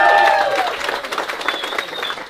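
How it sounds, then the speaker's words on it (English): A crowd at a salsa dance party applauds and cheers for their salsa teacher, with steady clapping and a few high whistles or shouts in the first half before the clapping continues on its own. "Okay, we give the biggest thanks to our salsa teacher, Viktor!"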